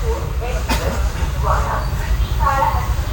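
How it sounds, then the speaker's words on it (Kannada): A passenger train pulls out of platform 7 at Guntakal Junction, giving a steady, loud rolling rumble with hiss and faint background voices. "ಗುಂತಕಲ್ ಜಂಕ್ಷನ್ 7ನೇ ಪ್ಲ್ಯಾಟ್ಫಾರ್ಮ್ನಿಂದ ನಮ್ಮ ಟ್ರೈನ್ ಈಗ ಡಿಪಾರ್ಟ್ ಆಗ್ತಾಯಿದೆ"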